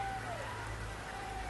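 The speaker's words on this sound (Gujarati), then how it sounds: "હવામાન વિભાગની આગાહીની વચ્ચે વરસાદી ઝાપટું પડ્યું" Rain shower in Gujarat falling as a steady, dense hiss of drops across the whole stretch, with a faint tonal hum underneath and no clear talk.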